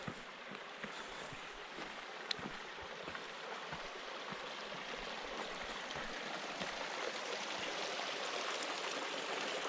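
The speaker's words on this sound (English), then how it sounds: "And there's a great little stream here for fresh water." A small mountain stream runs beside a lakeside campsite on a trail between Echo Lake and Kennedy Meadows, its steady rushing water rising slightly over several seconds with occasional faint splashes.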